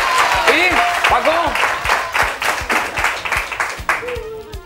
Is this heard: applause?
yes